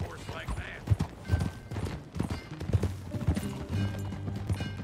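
Horse hooves clopping at a quick, uneven pace in Red Dead Redemption 2, close by, with some voice activity mixed in.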